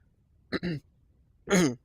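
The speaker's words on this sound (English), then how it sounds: "I will be coughing and stuff a little bit, clearing my throat and a little sniffing" Two short bursts of throat clearing from someone with a cold, close and fairly loud, separated by a brief quiet pause.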